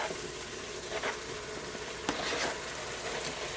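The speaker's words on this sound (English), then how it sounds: "so now I'll add the tomatoes in" Tomatoes sizzle and crackle steadily after being dropped into a hot pressure cooker for a chunky pasta sauce, with a few louder pops and no talking.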